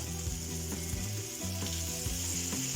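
Mint leaves sautéing in a pan with onions and tomatoes, a steady close sizzle and frying crackle running throughout with faint stirring, no voices.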